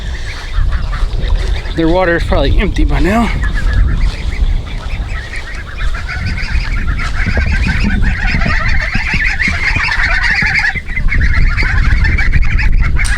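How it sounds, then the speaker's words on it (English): Farmyard geese honk loudly and repeatedly at close range, with ducks among them. A person talks over the steady noisy flock. "Oh, they're talking to the geese."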